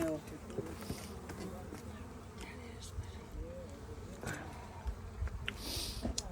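Bees hum steadily in a hive box, a dense drone rising and falling over a few seconds with faint background rustle.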